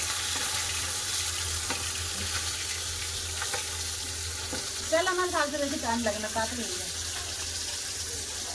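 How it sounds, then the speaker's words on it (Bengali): Chela fish fry in oil in an outdoor cooking spot during rain, giving a steady hiss and crackle with a short burst of bubbling sizzle midway. "মাছ ভাজা হয়ে গেছে"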